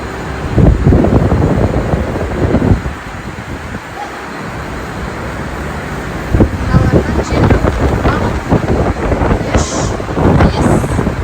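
Strong rushing wind gusts roar through a wind simulation room at an expo in Astana, buffeting the microphone, with voices, a dog-like yip and excited talk heard amid the blasts.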